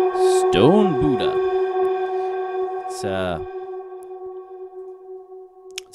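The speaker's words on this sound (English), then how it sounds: "It's a very nice pad sound." A sustained synth pad from a U-He Zebra 2 preset drones with steady layered tones, while a voice briefly sings or speaks over it near the start and again around the middle.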